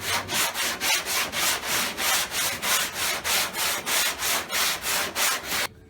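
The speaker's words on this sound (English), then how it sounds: "you just keep sanding like that and it will shape itself" A 2-foot sanding block with fresh 80-grit paper scrubs a car quarter panel by hand in about fourteen steady back-and-forth strokes, close and even in rhythm, before stopping abruptly.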